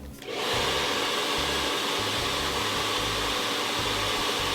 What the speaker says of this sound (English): Now listen to my blow dryer on high.